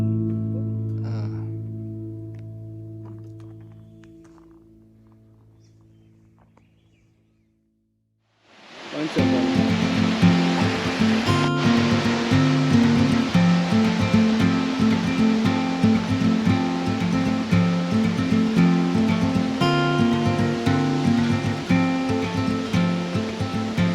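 Creek water flows steadily through the British Columbia outdoors, a loud, close, continuous rush that swells in after a quiet opening where a fading tonal sound gives way to near silence.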